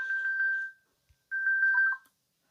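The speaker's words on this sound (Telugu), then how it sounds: "చూడండి ఇది రింగ్ అయితే అవుతుంది" A Jio Tag tracker rings out in two short bursts of a bright, repeating electronic tone, each lasting under a second and separated by a brief silence, clear and close with nothing else audible.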